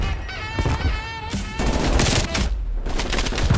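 Rapid gunfire from a Call of Duty match, with dense bursts of shots and booms filling the whole clip at close range, loud and continuous with no voices over it.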